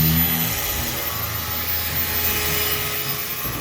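Steady abrasive rubbing of sandpaper on the paint of a 1985 Mercedes 300CD, continuous and close, with a rough scratchy texture and no talking.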